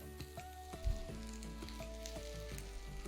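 Onions and peppers fry in a hot pan for a frittata, a steady close sizzle running throughout with a hum and faint tonal ringing in the background, no one talking.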